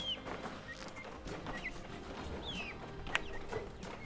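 Several young chickens cluck and chirp in soft, overlapping calls nearby, a busy steady chatter of young birds.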